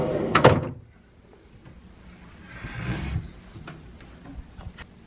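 A hotel room drawer at a Marriott in Uniondale, Long Island, gives one loud close wooden knock and slide, then softer shuffling and faint clicks follow for a few seconds.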